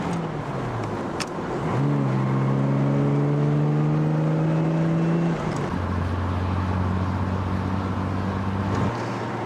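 A 1961 sports car runs at speed on an open road, near 105 mph. Its engine gives a loud, smooth roar that climbs through the gears, drops at a shift, then settles into a steady high drone, heard up close with no talking.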